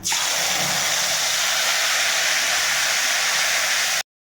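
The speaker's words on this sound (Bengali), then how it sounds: "এই তেলের মধ্যে দিয়ে দেব একটা তেজপাতা, আর দিয়ে দেব একটু পাঁচফোড়ন, আর এখন দিয়ে দেব আদা আর জিরে বাটাটা" Bay leaf, panch phoron and ginger-cumin paste hit hot oil with a loud, steady, close sizzling hiss that holds evenly for about four seconds, then cuts off.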